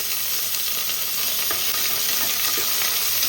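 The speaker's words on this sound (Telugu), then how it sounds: "ఇప్పుడు ఇందులోకి కొద్దిగా జింజర్ గార్లిక్ పేస్ట్, పచ్చిపచ్చిన పోయేంత వరకు మనము వేయించుకోవాలి" Ginger garlic paste frying in a pan, a loud, constant hissing sizzle close by with a couple of faint stirring knocks.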